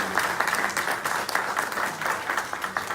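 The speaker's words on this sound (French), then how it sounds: "ça demande des applaudissements." Audience at a public seminar on the offshoring sector bursts into sustained applause, dense rapid clapping from a sizeable crowd filling the room at full, even loudness for the whole stretch.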